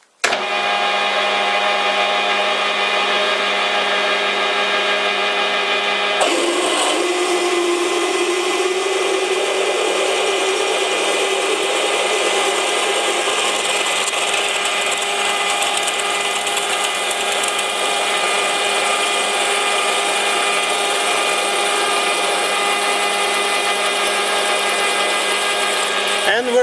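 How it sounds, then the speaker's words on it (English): A metal lathe turning at 500 RPM drills through a workpiece with a 10 mm cobalt bit, giving a steady, loud whine with dense tonal overtones that shifts and roughens partway through as the bit cuts, continuing without break. "This is a 10mm cobalt drill bit."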